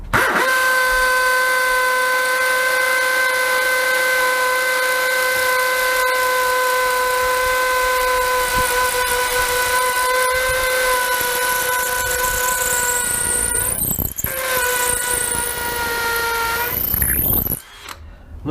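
Cordless drills, a Milwaukee M18BPD and a Dewalt DCD776, whine continuously at a steady high pitch for a long stretch, then wind down with a falling sweep and rev up again near the end.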